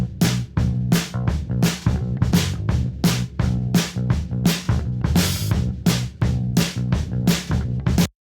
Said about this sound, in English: The last thing I have on here is the tape machine that it would be printed to